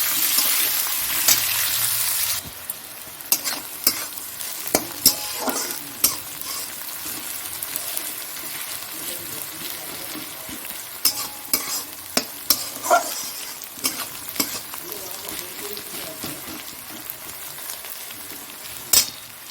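Onions frying in hot oil in a pan, a dense, close sizzle broken by frequent sharp knocks and scrapes of a spoon stirring, loudest at the start and steady throughout.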